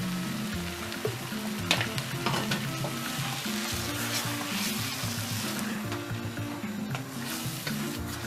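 A blend of tomato, onion and chili pepper sizzles steadily in a pan for a cabbage and gizzard stew, with a spoon stirring and scraping close by under constant frying, and no talking.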